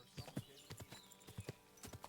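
Hooves clip-clop in a brisk, uneven rhythm, close and fairly quiet, a horse trotting in the video game Kingdom Come: Deliverance II.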